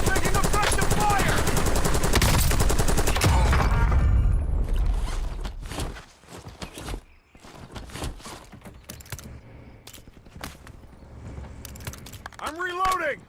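Gunfire in Call of Duty Warzone: loud, dense automatic bursts for the first six seconds, then sparser scattered shots and clatter at lower level, with voices talking over parts of it.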